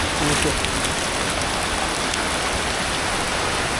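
A loud, close wash of rain pours over the Bangla Academy grounds during a Baishakh shower, an unbroken hiss of drops on the surfaces around.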